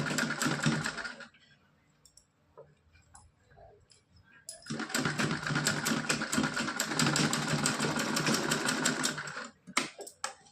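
A domestic sewing machine runs in two long continuous bursts, stitching the waist pleats of a small Laddu Gopal dhoti. It whirs steadily and close, with a quieter pause of handling noises between the runs.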